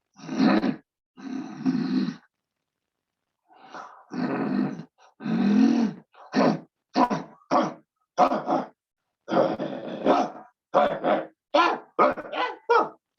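A group doing a morning yoga session imitates a dog with their voices, producing a series of short guttural growls and grunts in bursts separated by brief silences, fairly close and steady in loudness.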